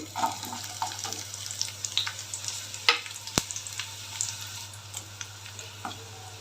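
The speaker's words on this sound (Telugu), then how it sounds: "వన్ టేబుల్ స్పూన్ అయితే ఆయిల్ వేసాను నేను ఇందులోకి ఇప్పుడు ఏం చేద్దామంటే ఆనియన్స్ వేస్తున్నా" Onions frying in a tablespoon of oil in a pan for a Rayalaseema-style vegetable soup, a steady soft sizzle with scattered crackles and light stirring clinks under a constant low hum, close and moderate.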